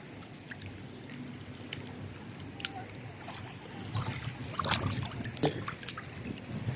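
Strong water current rushing around a swimmer, a steady wash of churning, splashing water with scattered sharp splashes that grow louder midway, fairly close, with no talk.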